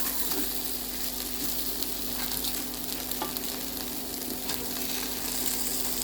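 Washed basmati rice frying in a pan, a steady close sizzle with scraping stirs throughout, no voices.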